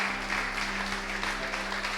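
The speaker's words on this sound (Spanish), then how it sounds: "Démosle un aplauso a esos hermanos que nos están viendo." A church congregation applauds during a service, steady moderate clapping over a constant low hum from the room's sound system.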